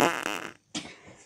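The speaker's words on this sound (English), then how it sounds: "you wanna hear my fart?" Two short fart bursts, the first longer and sputtering, then a brief pause and a second quicker one, close and fairly loud with no talk over them.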